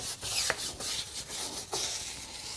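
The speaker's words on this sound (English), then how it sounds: "Take my Tough Shine tire brush and go ahead and scrub these tires." Tough Shine tire brush scrubbing car tires during a rinseless wash, making brisk, close bristle scrubbing strokes in a quick back-and-forth rhythm, about eight passes with brief pauses and no voices.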